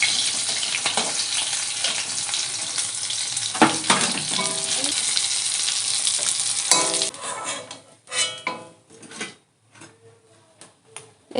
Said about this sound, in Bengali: ট্যাংরা মাছ ভাজা হয়ে গেছে